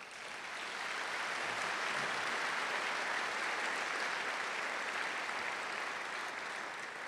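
Lecture audience applauding sponsors, a dense, even wave of many hands clapping that swells in and holds steady at moderate distance, without speech.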